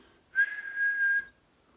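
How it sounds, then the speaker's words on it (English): A single sustained mouth whistle from a brass player, one steady clear tone held for about a second, close and fairly loud, with near silence before and after. "Whistle."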